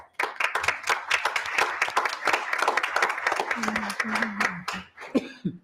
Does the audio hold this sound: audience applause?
yes